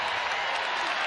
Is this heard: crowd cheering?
yes